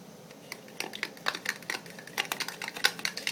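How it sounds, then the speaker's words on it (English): A fork whisks a broken egg in a bowl, a quick run of light tapping clicks against the side, fairly close and soft, with no talk. "Alright, so now I'm just going to mix it up with the fork."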